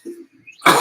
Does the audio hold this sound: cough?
yes